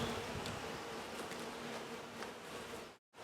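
Honeybees buzz in a dense, steady drone during a hive inspection in southwest Michigan, the swarm humming continuously and fairly close before cutting off abruptly near the end.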